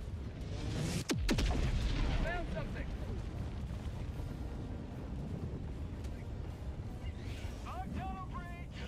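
A loud explosion booms in the video game Helldivers 2, with a sharp blast followed by rumbling and scattered battle noise, while voices talk over the game audio.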